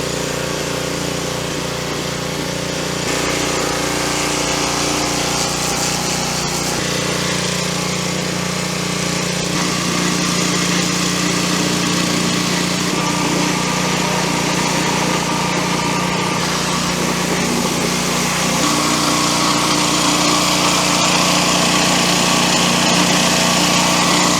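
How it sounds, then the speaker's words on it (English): An engine-driven pressure washer runs steadily and sprays water outdoors for the whole stretch, a loud, continuous motor drone with a hissing jet on top. "let's pack up the pressure washer"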